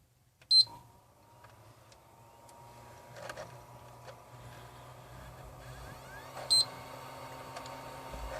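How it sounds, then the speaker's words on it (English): A PS3 Super Slim console gives two short electronic beeps several seconds apart, one near the start and one later, over a quiet background hum. "wait for 3 beeps."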